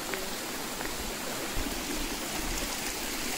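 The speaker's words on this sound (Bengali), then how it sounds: "এদিক দিয়েও যাচ্ছে জল, সব লেকের দিকেই যাচ্ছে।" A stream of meltwater runs along stone steps toward Nako Lake, a steady broadband rush of flowing water that holds close and continuous throughout with no voices.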